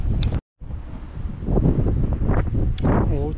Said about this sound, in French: il y a un peu de vent aujourd'hui